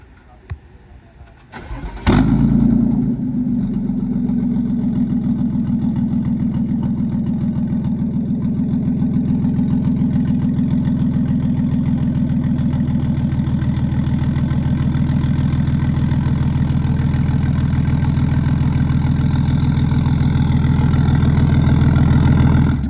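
A BMW F30 335i turbocharged engine with a big turbo cranks and catches, then settles into a steady, loud, low idle that runs continuously close by, with a faint voice briefly audible beneath it.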